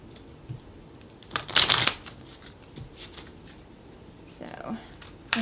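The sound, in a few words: tarot cards being shuffled and drawn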